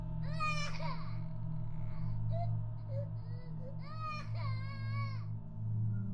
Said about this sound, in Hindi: तभी उसे एक बच्चे की रोने की आवाज सुनाई दी।